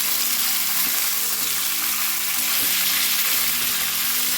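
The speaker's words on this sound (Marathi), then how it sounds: "आता आपल्याला सर्व हे मिक्स करून घ्यायचं आहे छान तेलामध्ये परतल्या गेलं पाहिजे" Pumpkin pieces sauté in oil for a red pumpkin vegetable dish, producing a dense, loud, unbroken sizzle with soft occasional stirring sounds beneath it.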